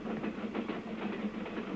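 A train rumbles along with a rhythmic clickety-clack of wheels on the rails, steady and fairly close.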